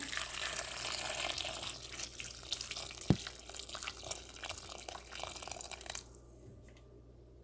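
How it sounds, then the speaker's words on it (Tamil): Hot water pours steadily into a bowl of cauliflower in a close, continuous stream, with a single sharp knock partway through, then stops near the end. "சுடுதண்ணியை விடுவோம்"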